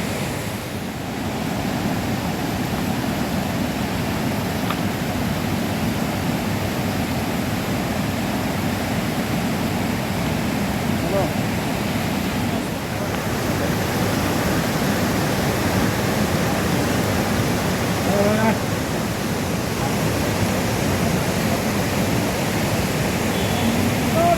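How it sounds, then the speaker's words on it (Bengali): Strong rushing water at Shivkhola waterfall, a steady broadband roar of flowing stream and falls that holds constant and fairly loud throughout, with no talk. "আজকে দেখছি অনেকটাই জলের স্রোত আছে।"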